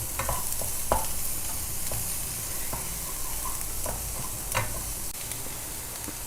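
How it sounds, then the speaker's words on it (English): Finely chopped onions fry in a hot pan for lemon coriander soup, a steady broadband sizzle running throughout with a few louder stirring scrapes and crackles at intervals, close and fairly loud, with no voices. "Simultaneously I will put all my onions, finely chopped onions, just again 10 to 15 seconds."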